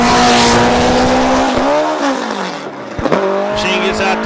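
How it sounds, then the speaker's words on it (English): Drag racing car launching down a 660-foot concrete dragway at Farmington Dragway, its loud engine roaring with steady rising pitch, a brief drop near the middle and a sharp gear-change break before climbing again, with a voice talking over it. "J.D. Curry getting lined up, setting ready to go down the 660 feet worth of concrete here at Bug Stuff, number 8, Farmington Dragway."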